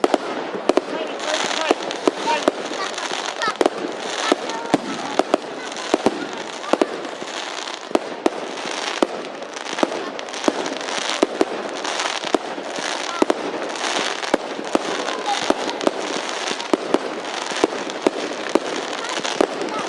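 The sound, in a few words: fireworks at bonfire night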